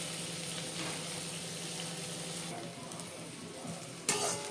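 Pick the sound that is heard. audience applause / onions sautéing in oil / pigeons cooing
onions sautéing in oil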